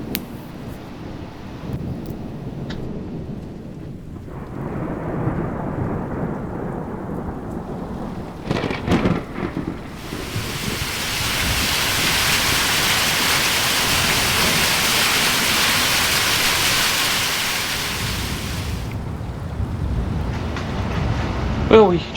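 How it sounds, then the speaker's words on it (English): A thunderstorm with torrential hail roars steadily as a dense, hissing downpour for several seconds, with rumbling rain and rustling before and after. "we just had 15 minutes of torrential hail"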